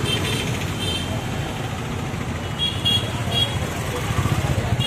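Busy street traffic on SP Road in Bangalore's electronics market area, a steady roar of cars, buses and motorbikes with scattered short horn toots at a middle distance, under a voice.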